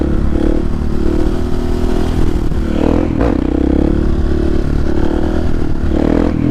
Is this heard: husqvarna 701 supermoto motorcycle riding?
yes